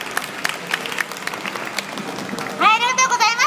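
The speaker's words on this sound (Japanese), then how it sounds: "もう一度拍手お願いします。" Audience applause for a comedy duo's farewell set, steady clapping from a crowd at moderate distance, later joined by a voice speaking over it as the clapping continues.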